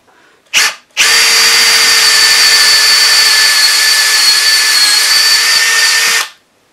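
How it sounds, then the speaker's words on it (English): A brief whir, then a power drill runs steadily at high speed for several seconds, loud and close, drilling a stripped thread hole out to 8.5 mm, before spinning down. "The first thing is to drill out the hole a bit."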